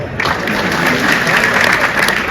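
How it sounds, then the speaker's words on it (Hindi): Loud, dense audience applause at a Hindi comedy poetry gathering (hasya kavi sammelan), a close, continuous burst of clapping from a crowd filling the whole moment. "ताली बजाओ एक बार"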